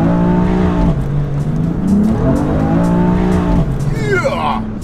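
A BMW M3 with a 500 hp GTS upgrade revs hard through low gears as its rear tires briefly slip and squeal, the engine note rising and dipping loudly alongside a short chirping skid near the end.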